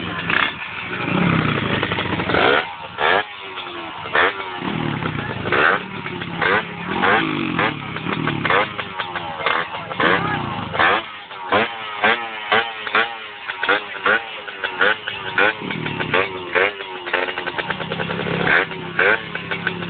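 A racing motorcycle engine buzzes and revs close by at a street race, rising and falling, while people talk and call out over it.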